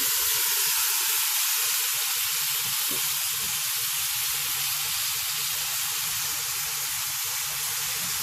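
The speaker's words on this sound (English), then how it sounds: "in a clear frying pan, I'm just going to add the chicken" Steady, loud sizzling and hissing of chicken frying in a hot pan, continuous throughout with faint stirring sounds.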